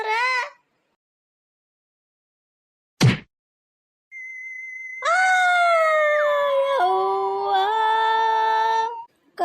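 A cartoon dog gives a couple of short yelps, then a long, wavering howl that bends in pitch, loud and close with silent gaps between the cries.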